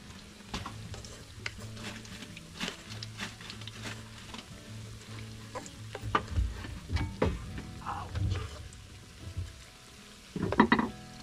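Balls of kangkong and sweet potato leaves frying in oil over low heat in a farm kitchen: a steady close sizzle with stirring and scraping, a few louder knocks and clatters near the end, no talking.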